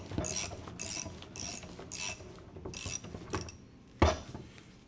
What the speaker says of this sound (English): And while skiving, making sure you apply tension to the belt so it stays in